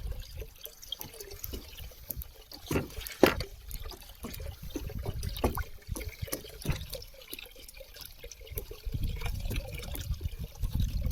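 Soft trickling and gurgling sump water flows steadily through a drip irrigation line to tomato plants, with scattered drips and small splashes, faint and continuous throughout.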